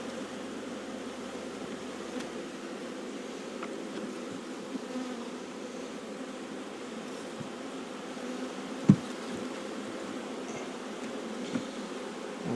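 Honey bees hum steadily around an open hive during queen installation, a soft continuous drone filling the air with faint rustles and one sharp knock midway; no voices.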